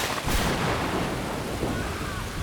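A thunderstorm sound effect gives a loud, broad crack of thunder followed by a rolling rumble with rain-like hiss, steady and close for a couple of seconds.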